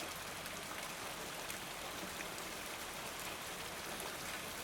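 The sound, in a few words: heavy rain pouring down outside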